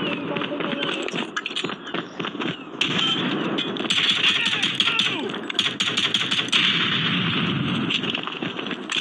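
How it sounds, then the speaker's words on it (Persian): Gunfire from a newly picked-up weapon in a Call of Duty match, dense bursts and pops with heavy game effects throughout, under a player talking. "ای خب تفنگ جدیدم برداشتم امیر اول اومدم با پیستول تفنگ جدیدم"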